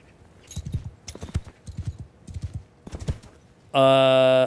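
Video game horse hooves in Mount & Blade II: Bannerlord clip-clop in a quick, uneven rhythm at close range, followed by a loud, sustained horse whinny at the end.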